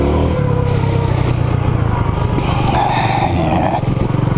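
Honda CB250RS motorcycle engine revving loud and close on a green lane, a sustained rough drone that rises in pitch toward the end.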